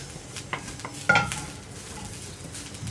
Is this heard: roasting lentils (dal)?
yes